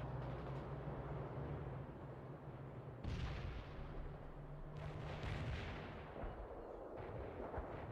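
Artillery barrage in the World in Conflict game, with heavy booming impacts and rumbling blasts rolling over a dense battle din, several strikes landing at intervals across the stretch.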